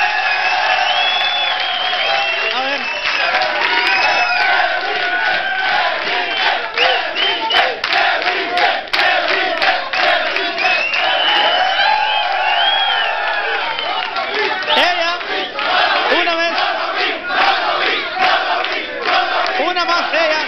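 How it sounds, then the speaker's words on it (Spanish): A studio audience on a Spanish-language television show applauds and cheers loudly and continuously, with whoops and shouts riding over the dense clapping throughout. "Un aplauso para ellas dos, por favor."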